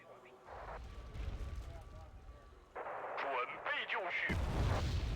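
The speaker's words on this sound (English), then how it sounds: "That's a artillery piece." Artillery piece firing in a mech-themed strategy video game, booming blasts and rumbling over a busy battle soundscape, with a loud low-heavy detonation near the end; someone talks over it.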